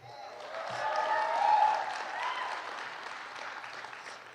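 Audience applause at an awards ceremony, a dense wash of clapping from a large crowd that swells toward the middle and then gradually eases, heard from a moderate distance, with no talking.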